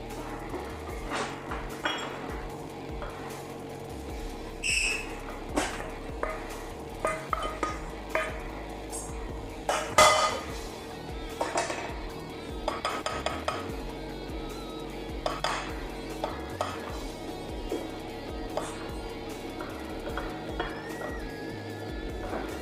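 Smashed potato fingers and chicken pieces are set one by one onto a baking tray, giving scattered light clinks and taps of food and utensils on metal over a steady background hum.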